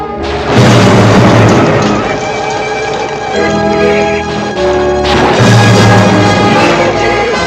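Loud booming blasts and crashes from bombs going off in a movie soundtrack, two heavy bursts with rumbling tails layered under dense music, with no talking.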